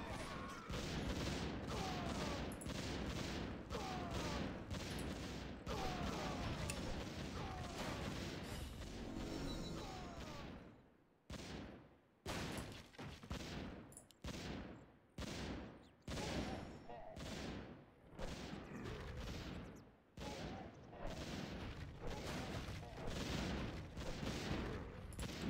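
Mass missile barrage in Warcraft 3 Reforged, a Tower Survivors custom game: a dense, continuous roar of overlapping blasts and gunfire, then breaking into a rapid run of separate loud explosive bursts.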